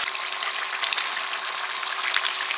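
Potatoes frying with chicken curry in a pan give a dense, continuous sizzle with small crackling pops, loud and close, steady throughout with no voices.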